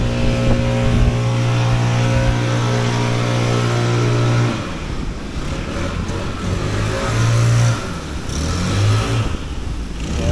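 A 300 kW standby generator runs loud and steady outdoors, a constant low engine drone with a strong tonal hum that shifts and roughens partway through, with no talking.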